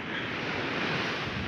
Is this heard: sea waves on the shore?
yes